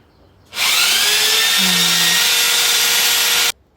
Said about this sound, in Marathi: आणि आता ते ड्रिलने फिक्स करत आहे.